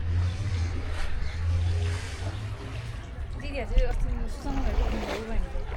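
A boat speeding across Fewa Lake in Nepal, its motor droning low and steady with water rushing and splashing alongside, while people talk over it.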